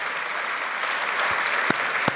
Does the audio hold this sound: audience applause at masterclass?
yes